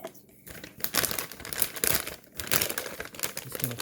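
Plastic piping bag crinkles and rustles continuously as it is folded down around a large coffee mug, close and fairly loud with crisp crackling texture throughout.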